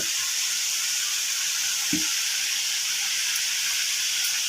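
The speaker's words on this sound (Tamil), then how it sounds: "குழம்பு நல்லா போட்டு மூணு நிமிஷம் நல்லா கொதிச்சு" Appalam kuzhambu, a Tamil papad curry, simmers in a pan with a steady broadband sizzling hiss and bubbling throughout, close and even, with one brief soft knock partway through.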